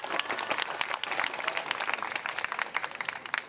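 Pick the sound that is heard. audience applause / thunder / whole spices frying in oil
audience applause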